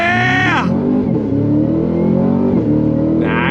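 A 2024 Cadillac CT5-V Blackwing sedan at full throttle: a loud, close engine roar climbs in pitch, drops sharply at a quick upshift, then builds again and starts to rise toward the next shift.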